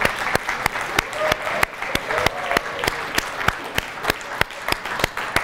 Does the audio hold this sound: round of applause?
yes